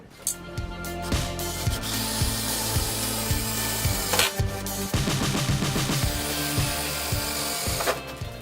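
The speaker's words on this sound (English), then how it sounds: "grab your drill, put it in the hole, and drill the hole out" A cordless power drill grinds steadily through holes in car body panels with a rhythmic, rasping churn, pausing briefly a couple of times before resuming loud and close.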